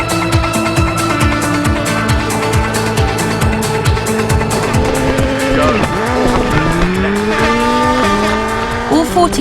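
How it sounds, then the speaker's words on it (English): Rally cars racing in the World Rally Championship PlayStation 2 game, engines revving and shifting through gears with tire squeal and skids, loud and continuous under a steady musical or effects bed. "World Rally Championship aims to be the best rallying simulation to date"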